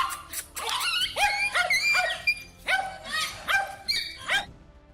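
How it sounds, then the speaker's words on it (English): Two eager dogs bark repeatedly at an iguana on their home territory, sharp close barks coming in quick bursts with a few yips, loud and fairly continuous with no talking. "two overly eager dogs decided to bark at it on their territory"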